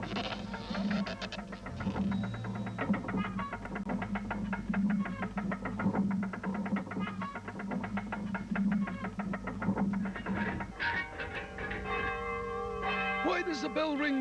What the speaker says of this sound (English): Why does the bell ring now?